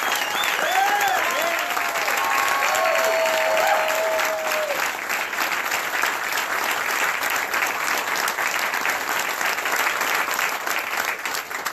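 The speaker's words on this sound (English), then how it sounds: "So give them a round of applause." Sustained applause from a political rally crowd honoring veterans at a US Senate campaign announcement, dense steady clapping filling the room for about twelve seconds, with faint whoops and voices mixed in.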